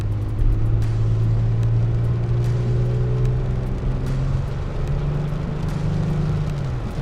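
A 2016 Toyota Tacoma SR5 Double Cab 4X4 V6 pickup accelerates from inside the cab, with a steady low engine drone that climbs in pitch for several seconds, eases off, then rises again over constant road rumble.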